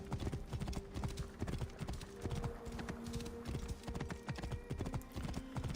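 Horse hooves galloping in Assassin's Creed Origins, a fast steady clip-clop rhythm running throughout, loud and close, with faint game ambience behind it.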